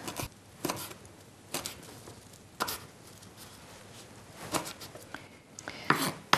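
A knife chopping a small handful of fresh rosemary on a board, with about eight sharp, close chops spaced irregularly over a soft background hiss.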